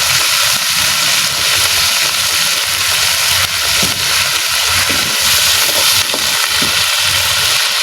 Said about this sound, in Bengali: পেঁয়াজ রসুন দিয়ে লবণ হলুদ দিয়ে ভালো করে ভাজা ভাজা করে নেব